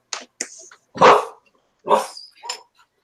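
A dog indoors barking in answer to another dog outside, five sharp barks in uneven bursts with silent gaps between, loud and close with no talk.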